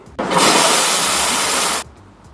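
A Victoria Arduino Black Eagle T3 espresso machine's steam wand purges in one loud, close, continuous hiss lasting under two seconds before cutting off sharply.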